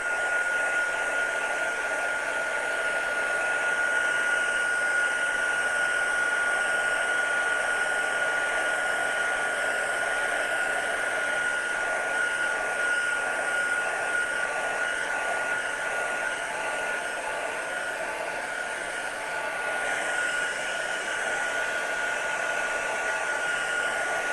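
A hair dryer runs continuously at close range while drying watercolour paint, a steady loud whooshing blow with a constant motor whine and no talking.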